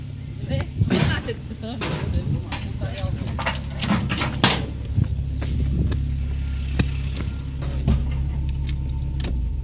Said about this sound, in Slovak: Vypni auto, Jožko.